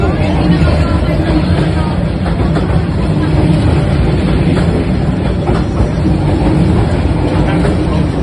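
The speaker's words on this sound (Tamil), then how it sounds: "ட்ரெயின் சூப்பராக இருந்ததுங்க." A train rumbles loudly and continuously on the line to Ti-Top Island in Vietnam, steady rolling noise with faint clatter and crowd babble mixed in.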